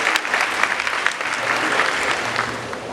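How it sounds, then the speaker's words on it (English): A hall audience at an anniversary lecture honoring Dr. Busia gives a steady round of applause, a dense clatter of many hands heard from moderately near, with a faint low murmur underneath. "if you may, round of applause"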